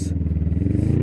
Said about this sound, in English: they're going to get me in trouble for having a loud exhaust